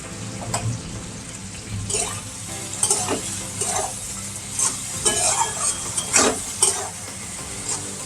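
Boiled potatoes sautéed and stirred in a pan for a Bengali hilsa and eggplant curry, a low, steady frying hiss punctuated by several scraping stirs and light clinks of a spoon on metal.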